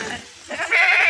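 An Ablak goat for sale in a livestock pen bleats close by, a short wavering cry rising in pitch, with faint background voices.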